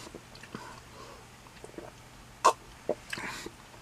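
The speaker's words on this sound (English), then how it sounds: "Sorry for my gulping and lip smacking" Quiet wet gulps and lip smacks come from someone drinking a Samuel Adams Christmas winter lager, with a few soft mouth clicks and swallows spread across a hushed room.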